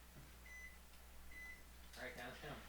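A microwave oven being set, a few short electronic beeps from its keypad, faint and close, with a low steady hum underneath and a brief voice near the end.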